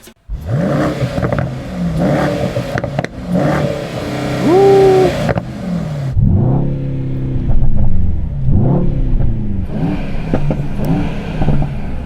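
Mercedes-AMG GT63 launching in a drag race, its engine revving hard through rising pitch sweeps broken by gear changes, loud and close with a rumbling roar.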